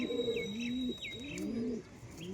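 Teddy pigeon squabs coo in low, rolling, repeated calls close by, with a faint steady high tone in the background and no talking.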